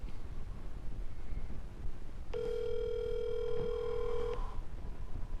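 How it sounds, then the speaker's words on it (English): A mobile phone, an iPhone, gives one steady electronic ring of about two seconds, clear and fairly close over a low background rumble. "answer the phone"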